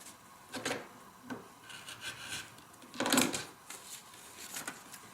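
A 1/4 inch rotary cutter trims fabric for a small bag in a few quick rasping strokes, the loudest around the middle, with soft rubbing between cuts and no talking.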